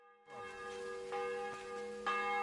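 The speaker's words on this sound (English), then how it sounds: "The bell's ringing for Hans the 5th time." A church bell rings in Kingdom Come Deliverance 2 with several resonant clangs a second or so apart, each tone ringing on and overlapping the next, fairly loud and alone.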